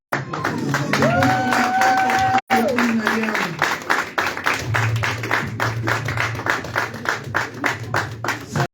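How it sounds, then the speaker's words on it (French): A church congregation claps and cheers under a lively crowd din, with a sustained tonal sound early on, a brief dropout, then rhythmic clapping continuing steadily to the end. "Est-ce qu'on peut acclamer?"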